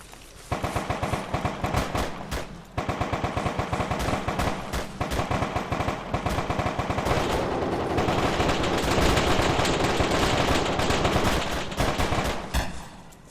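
Sustained automatic gunfire aimed at a drone in Arma 3, a long, loud, unbroken stream of rapid shots with only a brief pause early on, continuing for many seconds.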